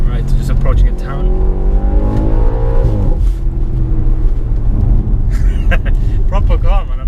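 An Audi RS4's engine pulls hard under acceleration on a road nearing a town, with a loud, steady drone and rising harmonics through a gearshift, while someone talks over it throughout.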